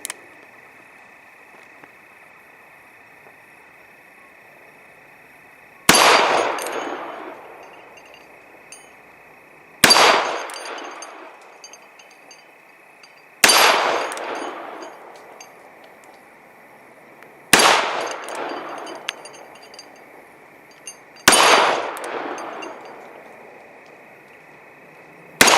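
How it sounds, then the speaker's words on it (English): Five sharp gunshots from a Colt Official Police .38 Special revolver fired single action at targets, evenly spaced a few seconds apart, each a loud close crack with a ringing decay, over a steady background tone and no talking. "I'm going to shoot the 4 targets again."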